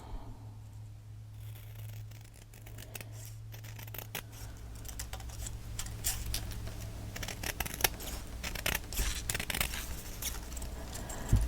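Scissors cutting a photo for a handmade photo album, a steady run of close, dry snipping and paper rasping over a faint low hum, with no speech.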